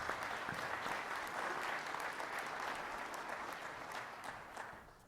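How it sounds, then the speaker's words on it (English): A conference audience gives a round of applause at the CMLS 2019 closing session. The steady, dense clapping sounds slightly distant and tapers off toward the end. "So round of applause."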